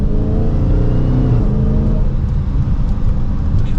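A Dodge Charger SRT Hellcat Widebody pulls hard from second gear, its engine a loud, continuous roar that builds and holds without a break, with no one talking.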